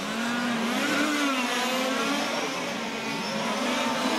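Large-scale radio-controlled touring cars racing in a European championship main final, several whining engines revving and sweeping up and down in pitch continuously, loud and close, with no talk.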